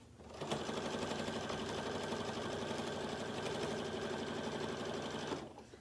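A regular domestic sewing machine quilts a small quilt sandwich, running steadily in one continuous close, loud burst with a brief start and stop at either end and no talking.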